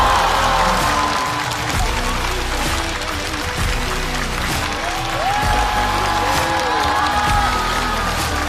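Studio audience applauding and cheering loudly as a team walks on at a Chinese stand-up comedy show, a dense steady roar with whoops and music playing underneath.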